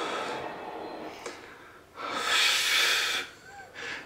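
A person breathes hard in a few bursts of loud, rasping, close panting between quieter pauses, with a faint voice in the background.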